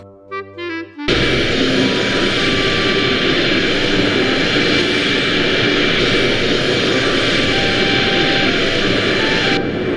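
A few short game-like tones, then a loud, steady airplane engine roar in a Three Cats kids' game drones continuously and close.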